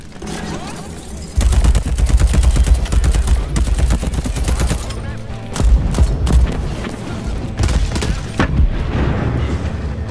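Heavy gunfire in Deathloop, loud rapid bursts and booming shots that start abruptly and keep going, broken by brief pauses, with some shouting mixed in.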